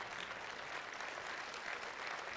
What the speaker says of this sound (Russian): Хороший повод аплодировать, если вы этого хотите.